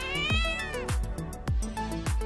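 A cat meows loudly and repeatedly, four or five drawn-out, rising-then-falling wails close by, with almost no pause between them.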